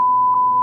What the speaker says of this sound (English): We've chosen to beep out or cut the names of people they name as abusers